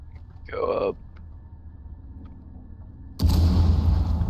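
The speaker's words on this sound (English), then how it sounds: "I heard an explosion." A sudden loud blast in Rainbow Six: Siege bursts in near the end and rumbles on as a broad sustained roar, after a brief spoken phrase and quiet game ambience.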